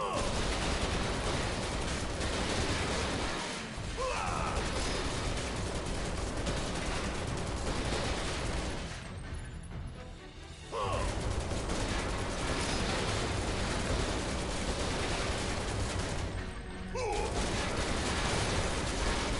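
Sustained bursts of rapid gunfire in Final Fantasy VII Remake on hard mode, loud and dense, broken by two short lulls before the shooting resumes at full intensity.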